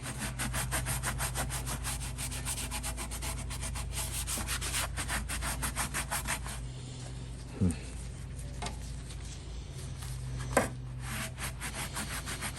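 Rhythmic back-and-forth light sanding strokes on parts of a 1955 Westinghouse fan, close and steady for several seconds, then stopping, followed by quieter handling noises and a couple of sharp knocks.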